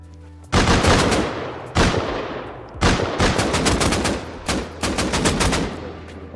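Gunfire in the online survival game Rust Console during a base raid defense: loud bursts of rapid automatic shots in four separate volleys, close and harsh, with no talk.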